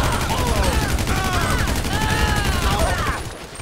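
A carbine rifle in the video game GTA 5 empties a full magazine in a continuous, rapid burst of gunfire that stays loud and dense throughout and trails off at the end.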